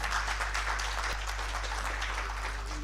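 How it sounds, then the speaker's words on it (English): An audience at a national social protection dialogue conference claps together in a hall, a dense steady patter lasting a few seconds over a low hum from the room's sound system. "I know you can afford to clap better than that."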